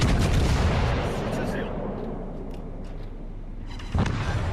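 Battleship Hood's main guns firing in a naval video game, a heavy booming salvo with a long rumbling tail that fades, then a second sharp blast near the end.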